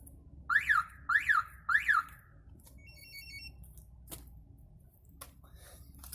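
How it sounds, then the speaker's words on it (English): Three short rising-falling electronic pre-warn chirps from a Prestige X2 car alarm siren on a 2019 Mercedes A-Class in quick succession, followed by a few faint beeps and clicks. "When it pre-warns, the siren will chirp"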